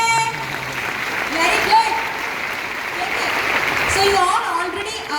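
An audience at a health talk breaks into sustained clapping, a dense, steady patter of many hands lasting several seconds, with a voice briefly speaking over it.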